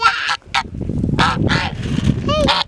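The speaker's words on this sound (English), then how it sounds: "He's a really good guard goose." A farm guard goose honks loudly and repeatedly at close range, with harsh calls crowding one another and a voice briefly audible between them.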